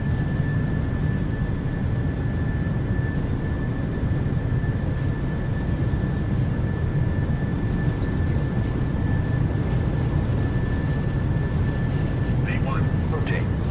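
Boeing 737 engines spooling at takeoff thrust in the FTSIM flight simulator game, a steady loud low roar with a constant whine on top, holding evenly throughout with faint voices beneath.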